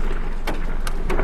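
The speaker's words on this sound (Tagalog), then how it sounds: "umuulan ng yelo." Hail falls in a brief burst of dense pattering and ticking, loud and close, with a few sharper impacts standing out above the steady rush.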